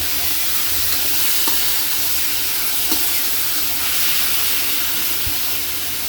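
Pork going into a pot for pork nilaga: a loud, continuous hiss of sizzling and steam, close up, with a few faint clinks and scrapes through it and no talk.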